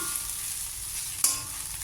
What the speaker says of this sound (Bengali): এই যে ঢাকনা খুলে দিয়ে অনেক সময় এরকম করে ভাজছি